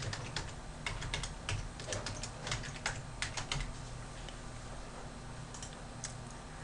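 Rapid irregular keystrokes on a computer keyboard as a password is typed, close and crisp, in clustered bursts over a faint low hum with no talk.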